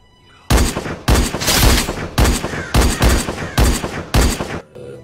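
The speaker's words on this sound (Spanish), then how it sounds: "Cuando hablan y se escucha más los disparos." Gunfire in the video game Free Fire comes as six or seven loud, close bursts of rapid automatic shots, each burst about half a second long with short gaps between.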